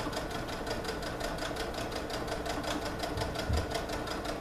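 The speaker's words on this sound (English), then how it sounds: "And just go ahead and sew down. Straight stitch." Sewing machine running a straight stitch through stretchy leggings fabric, a steady rapid clatter of needle strokes with an even rhythm, moderately close and quiet, without voices.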